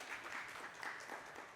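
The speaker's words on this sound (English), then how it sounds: "You got some applause." A live audience at a talk applauds in a brief, faint, steady patter of clapping, heard alone and from a distance.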